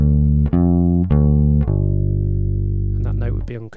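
Bass guitar notes played in a grade-level lesson, three plucked attacks with the last note left unmuted and ringing on for over a second before fading under brief talk at the end.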